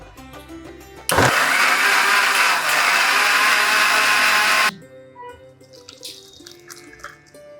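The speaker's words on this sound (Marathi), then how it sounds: "आता आपण हे मिक्सरमधनं फिरवूया" A kitchen mixer blends watermelon and orange juice, roaring loudly for about three and a half seconds before stopping, with quieter kitchen sounds before and after.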